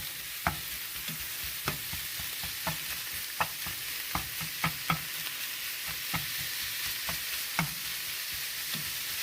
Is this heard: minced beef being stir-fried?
yes